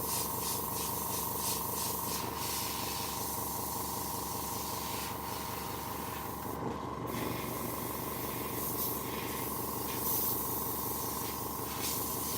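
An airbrush sprays paint with a continuous, steady hiss that holds close and even for the whole stretch, with faint handling noises in the background.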